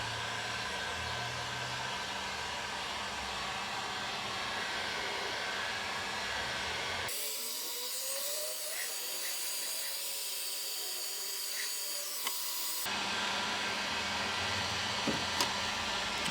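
Heat gun blowing hot air to soften old carpet glue inside an E36 BMW being stripped for a roll cage, a steady whooshing whir that cuts out midway, then resumes, with a few small knocks.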